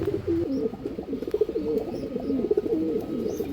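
Pigeons coo in a steady, overlapping chorus of low, rolling calls, close and continuous, with a few faint higher chirps mixed in; these are tournament-flown racing pigeons kept for sale, with a female and a male in the loft.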